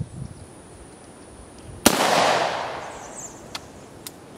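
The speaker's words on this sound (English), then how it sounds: "Now I've got an AR-15, 16-inch barrel in 223." AR-15 rifle with a 16-inch barrel firing a single M193 .223 round outdoors, one sharp loud crack followed by a long decaying echo, with two faint clicks afterward.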